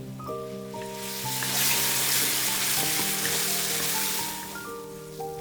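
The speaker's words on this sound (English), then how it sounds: "Sear the meat well. Some char will add smokiness too." Minced pork sears in a hot pan for a Thai holy basil stir fry, a loud broad sizzle that swells and holds across the clip, with faint tonal background sounds beneath.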